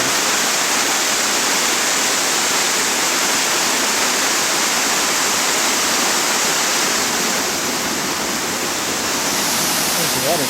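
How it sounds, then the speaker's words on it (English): A waterfall near the old Ashlu mines, seen across a river, roars as a steady, dense wash of rushing water that stays loud and unbroken throughout. "There's the waterfall."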